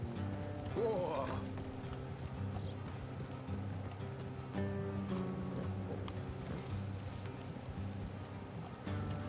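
Horse hooves clip-clopping on a dirt road in Red Dead Redemption 2, a steady nearby trot with creaking tack, a brief whinny and faint talk.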